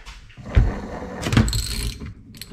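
A ratchet loosens a bolt on an RV power jack. Short bursts of close mechanical clicking come in two spells with a brief pause between them.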